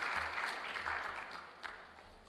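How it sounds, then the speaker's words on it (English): Sustained applause from an audience at a corporate annual general meeting, dense and steady throughout, with the clapping slowly thinning toward the end. "Give him a round of applause, man."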